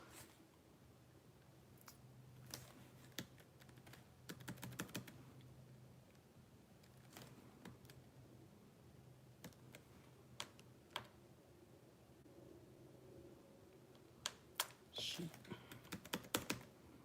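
Typing on a computer keyboard, with scattered, irregular clicks and short bursts of keystrokes, close but quiet, sometimes clustering into quick runs, over a low room hum.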